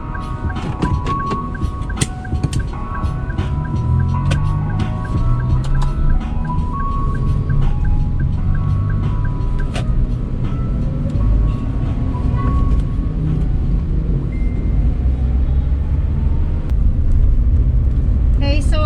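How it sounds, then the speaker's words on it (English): A car driving along the C5 road from Taguig to Pasig gives a steady, loud low rumble of engine and road noise throughout, with faint tonal sounds drifting over it. "I'm now heading to Pasig and I'm driving along C5"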